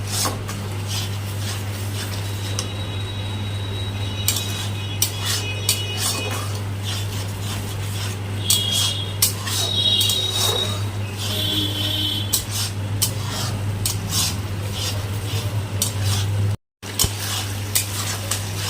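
Salt, turmeric and sugar with spices stirred and fried in a pan, a steady sizzle under repeated scraping and clinks of a spoon against the pan, close and continuous without talk.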